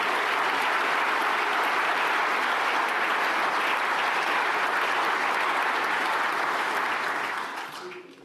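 A large conference audience at the Munich Security Conference applauds the US delegation, a thick, even roar of clapping held at full strength for several seconds before tapering off at the end.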